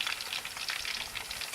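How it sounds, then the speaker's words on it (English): Oil sizzles in a pan as tomatoes fry at medium-low heat, a steady close crackle and hiss with no pauses and no talking. "You can hear it sizzle."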